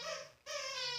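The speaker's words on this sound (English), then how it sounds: "That's my dog, by the way, that's doing that, in case anybody cared to know." A dog playing with a toy gives a short, high whimper in two brief rising whines split by a tiny pause, close and fairly faint.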